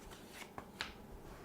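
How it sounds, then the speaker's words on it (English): Playing cards are shuffled by hand in a home card game, a short soft riffle with a couple of crisp flicks and snaps close by, quiet overall with no talking. "You must have shuffled these pretty good."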